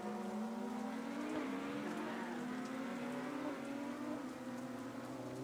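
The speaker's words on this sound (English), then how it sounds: "We're hearing all of the cars drive around." Race cars in the LRS GT racing video game season, several engines droning together in a steady rising whine, gear-like pitch sweeps climbing slowly under a continuous hiss, fairly faint and distant.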